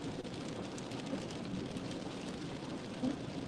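Steady rain during a winter storm, a constant hiss of drops on surfaces with a faint low rumble beneath, evenly loud throughout with no talking.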